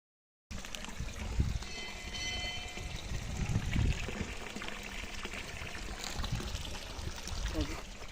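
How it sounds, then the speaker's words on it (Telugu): Steady rushing water flows without pause from a rocky hillock near a Shiva linga, a broad watery wash that stays fairly loud throughout, with occasional faint voices in the background. "ఈ గుట్ట మీద నుంచి అయితే నీళ్ళు కొలం రూపంలో ఒక దార రూపంలో వస్తాయి"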